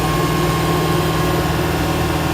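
Steady, low-pitched rumble of a Mecalac 8MCR excavator's diesel engine running at raised revs with the boom up, constant and close with a faint mechanical whine.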